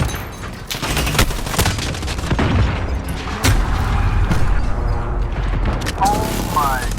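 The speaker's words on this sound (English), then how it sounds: "Enemy precision airstrike inbound." Explosions and gunfire from an enemy precision airstrike in Call of Duty: Modern Warfare, a dense barrage of sharp blasts and booms with a few louder impacts over continuous game noise, a voice talking over it.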